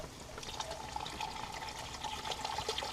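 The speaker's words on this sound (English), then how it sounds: "I'm going to go ahead and put a little just plain old water in here to replace the fluids that have lost." Plain water poured into a black iron pot holding a pot roast, a steady continuous splashing and bubbling wash for several seconds, close and moderately quiet with no talking.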